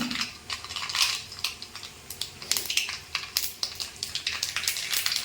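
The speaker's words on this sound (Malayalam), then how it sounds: "ഇതിലേക്ക് ഞാൻ 1/2 സ്പൂൺ കടുക് ഇട്ട് കൊടുക്കുവാണ്" Half a spoon of mustard seeds dropped into hot sesame oil for a fish pickle, crackling and popping in dense, irregular bursts of sharp clicks and spatters close by.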